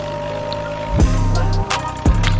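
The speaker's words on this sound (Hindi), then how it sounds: "ट्रैक्टर भाई काफ़ी ज़्यादा लोड हो रहा है" A New Holland tractor engine labors steadily under a heavily loaded trolley, a continuous low droning hum with two sharp louder surges as it strains, close and unbroken, with no talk over it.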